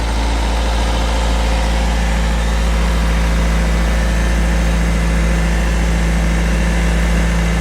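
A Toyota 4x4 fitted with a Cummins 4BT diesel idles with a steady, heavy, low rumble and constant vibration, loud and unbroken for several seconds with no talk.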